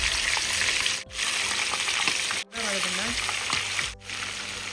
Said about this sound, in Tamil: இது அப்படியே மிதமான சூட்டில் நம்ம பொரித்து எடுக்கலாம்.